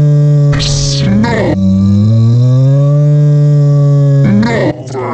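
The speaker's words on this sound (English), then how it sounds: "that's a cow!" A cow moos loudly in a long, drawn-out low call with a rising and falling pitch, framed by short, harsher bursts at the start and end.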